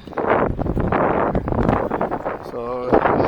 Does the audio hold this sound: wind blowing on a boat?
yes